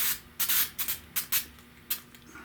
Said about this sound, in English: come through with this weld through primer